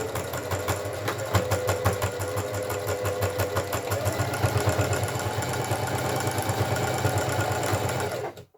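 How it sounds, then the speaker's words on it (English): A sewing machine stitches a seam on a boxy zipped pouch, a steady, close mechanical chatter with a rapid needle rhythm running for about eight seconds before stopping abruptly. "okay, so we've sewn our seam."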